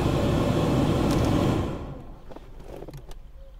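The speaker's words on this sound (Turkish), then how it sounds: "Yine fanımız orada minnoş minnoş dönüyor, görüyorsunuz." Peugeot 306 GTi radiator cooling fan running: a loud, steady whooshing whir fades after about a second and a half into a quieter hum with faint clicks.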